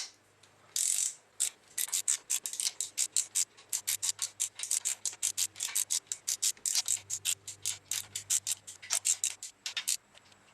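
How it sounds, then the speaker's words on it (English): A ratchet wrench snugging down girdle nuts on a Nissan KA24DE engine block, rapid clicking strokes in bursts with short pauses, close and clear, no talk. "What we're going to do now is start tightening down number 1 and number 2, and get the girdle to go down evenly all the way down to the block."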